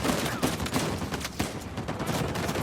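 Sustained turret gunfire in Uncharted 4: dense, continuous bursts of rapid shots with sharp cracks layered over a steady roar, loud and close throughout with no talking.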